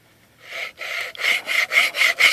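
A wire saw strung like a bow saw rasps through wood in about seven rhythmic back-and-forth strokes that grow quicker and louder, heard close up with no talk.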